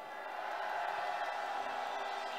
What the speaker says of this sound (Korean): 우리 존버 이예수 선생님 여러분 열렬한 박수로 맞이해주십시오